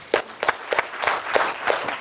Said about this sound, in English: So shall we give them another round of applause?